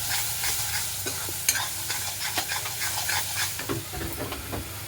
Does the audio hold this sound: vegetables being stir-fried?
yes